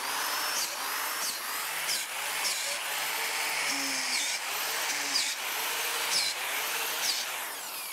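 A power drill bores into a log for mushroom cultivation, a steady whining hum running the full length with small pitch shifts and brief surges as the bit bites, fairly faint and alone.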